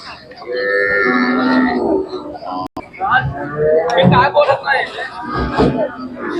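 Khillar cattle lowing in long, drawn-out moos at a cattle market in Sangola, Solapur, amid crowd chatter and other people talking nearby.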